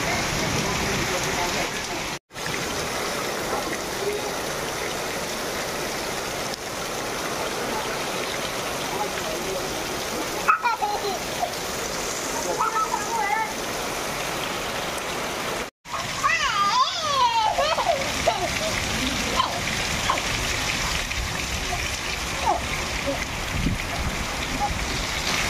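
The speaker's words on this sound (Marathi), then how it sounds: "जबरदस्त पावसाला सुरुवात झाली आहे अचानक" Sudden heavy unseasonal rain in the Konkan pours down steadily on surfaces with a dense hiss and splatter. Voices talk faintly through the downpour.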